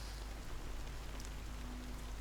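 Rain falling on an umbrella in the video game Honkai, a faint, steady patter with a low hum beneath it and no talking.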